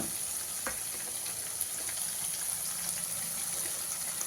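Tomatoes frying with asafoetida in a pan for a Kathiawadi-style spiced millet flatbread dish, a steady close sizzle with faint stirring scrapes and no talking.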